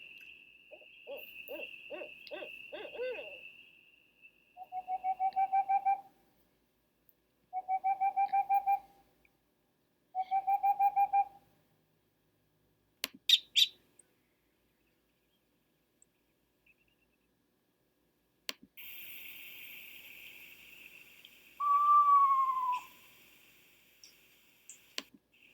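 Several owl calls come in short repeated bursts of hoots and whistled notes, separated by silences, with a few sharp clicks and a higher trailing whistle near the end, all fairly faint.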